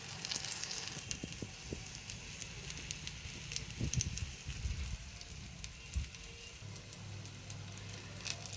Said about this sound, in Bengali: এটা সুন্দর করে ভাজা হয়ে যাক